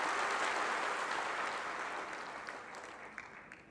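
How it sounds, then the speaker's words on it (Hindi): An audience at a large tree-planting and farming technology seminar applauds loudly, the dense clapping tapering off gradually to a few scattered claps. "एक बार तालियां बजा के अभिनंदन कीजिए"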